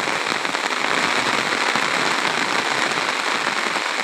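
Rain falls on the Baranai river at Teghoria ghat, a dense, loud, steady hiss of countless drops hitting water and surfaces without a break.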